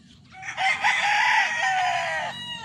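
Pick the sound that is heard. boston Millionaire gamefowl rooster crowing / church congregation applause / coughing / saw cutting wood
boston Millionaire gamefowl rooster crowing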